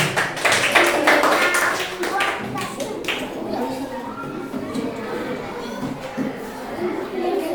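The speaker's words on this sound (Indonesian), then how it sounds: "Tepuk tangan buat kelompok 5." Children in a classroom clap for a presenting group, a brisk burst of applause at the start that thins into scattered claps and taps under lively chatter and voices.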